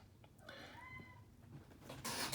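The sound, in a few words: cat meowing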